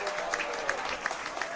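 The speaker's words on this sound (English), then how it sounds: "a few fans on their feet applauding that" Football fans at a Hampton & Richmond versus WsM AFC National League match applaud a save with scattered, distant clapping and a few sharper claps standing out.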